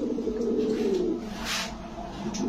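A pigeon in a breeding pen at a pigeon shop gives a soft, rolling coo close by, a single drawn-out call that trails off into quiet background noise.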